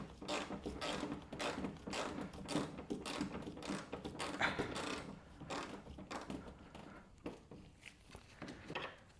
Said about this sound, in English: let's remove that bolt finally